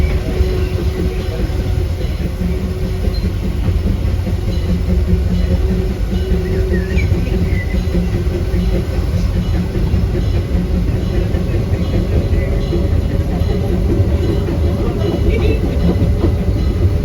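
The Big Thunder Mountain mining train ride at Disneyland gives a loud, continuous rumble with rattling and clattering from the cars, steady throughout with no clear pauses.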